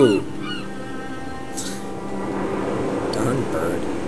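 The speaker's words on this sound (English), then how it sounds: "Seagull." A seagull on a Hebridean island coast in the video game Dear Esther gives a couple of brief, thin cries over a steady windy ambient drone, with no talk.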